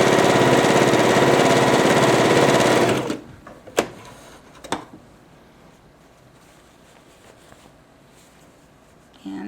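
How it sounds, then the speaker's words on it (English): A Babylock Jazz sewing machine stitches at steady speed with a dense, even whir for about three seconds, then stops, leaving a quiet room with a couple of faint clicks. "I'm sewing about 1/4 inch away."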